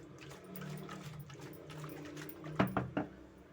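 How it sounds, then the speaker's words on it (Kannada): Water is poured into a pot of cooked fresh cowpea sambar, a soft splashing pour that ends in a few louder splashes near the end. "ಒಂದು ಸ್ವಲ್ಪ ನೀವು ನೀರು ಹಾಕ್ಕೊಬೋದು ಏನು ತೊಂದರೆ ಇಲ್ಲ"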